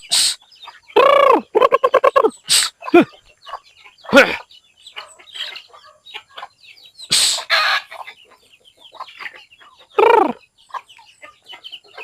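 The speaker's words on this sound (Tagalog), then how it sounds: "Ito yung mga manok." Chickens clucking and squawking at feeding time on a provincial backyard farm, several loud close bursts in irregular clusters with quieter clucks between, no talk.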